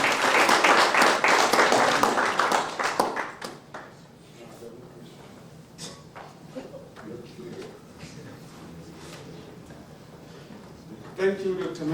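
An audience at a university alumni induction event claps for a presenter, a loud burst of many hands that fades after about three seconds, followed by quiet room noise, scattered taps and a voice speaking near the end.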